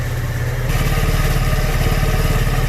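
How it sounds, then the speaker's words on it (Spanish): A motorcycle engine revs up to about 2000 rpm while its carburetor is being synchronized, a loud, steady close mechanical drone that rises and settles into a faster pulsing idle after the first moment. "Tenemos las 2000 revoluciones, escuchamos que el motor se acelera."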